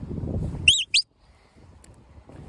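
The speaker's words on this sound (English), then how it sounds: "So these are the commands in whistle form." Two quick high-pitched sheepdog command whistle notes, one rising then a short second blast, cutting through a low rumbling background before fading to quiet.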